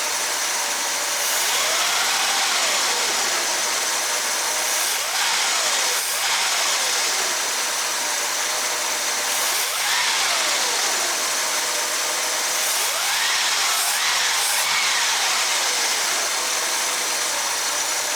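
An old truck engine runs loud and steady just after a water pump replacement, settling at idle between several rising-and-falling revs that whine up and back down, close to the microphone.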